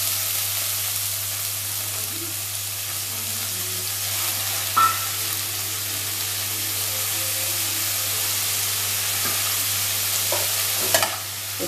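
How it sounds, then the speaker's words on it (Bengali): A large finely chopped onion fries in a little oil for a fish egg curry, giving a soft, steady sizzle with occasional stirring scrapes and clicks close by, no voices. "এটাকে একটু ভাজা ভাজা করে নেব।"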